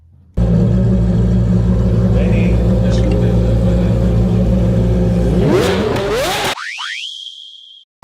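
A car fitted with a RevKing exhaust sound device is revved to mimic a Lamborghini, giving a loud sustained engine drone that rises in pitch near the end, then cuts out with a short ringing tail.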